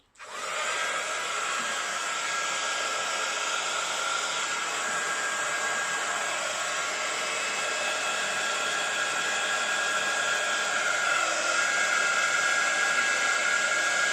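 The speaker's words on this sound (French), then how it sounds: "je vais chauffer avec mon pistolet chauffant" Heat gun blowing hot air while warming a painted surface for a decorative slate-effect finish, a steady loud whooshing roar that starts abruptly and holds constant throughout.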